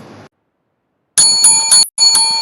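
A bicycle-style bell rings in quick repeated trills, loud and close, with a brief gap before a final ring, signalling the end of a question-and-answer session at an interior design student presentation event.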